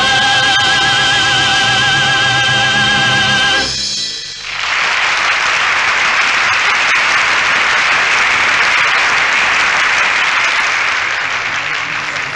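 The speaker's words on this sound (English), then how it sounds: "sustained applause" Theatre audience breaking into sustained applause, a dense, loud wash of clapping that takes over after a few seconds of music and carries on steadily to the end.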